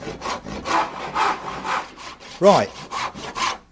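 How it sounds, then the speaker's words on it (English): A hand saw cuts a tenon in wood, its rhythmic push strokes rasping steadily about twice per second, close and clear, with one brief spoken word in between. "Let me just start the saw first."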